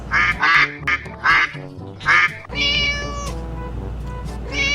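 A quick series of nasal duck quacks, four or five in a row, followed by a longer, wavering call, all close and loud.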